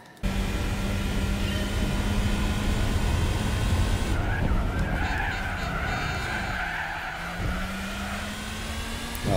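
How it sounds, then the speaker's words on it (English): Volkswagen Bora in Gran Turismo 4 roaring at speed with sustained tire squeal as it skids and swerves, the engine tone shifting midway while the screeching continues loud throughout. "Our car actually kind of swerved to the side there."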